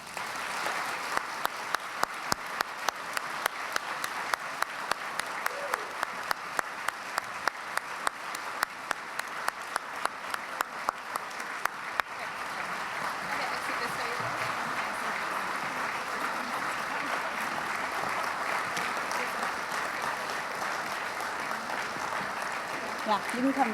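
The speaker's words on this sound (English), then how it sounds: "Please give these amazing women a round of applause." Sustained audience applause at the 2015 UWW gala, steady dense clapping filling the room for the whole stretch, with some voices in the crowd beneath it.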